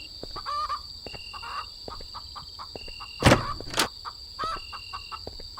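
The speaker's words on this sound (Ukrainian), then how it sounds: "Це твої кури, братан, це твої кури" Game-like clucking and short bird calls from chickens in an indie horror game repeat in quick bursts over a steady high electronic tone, with two loud sharp hits midway.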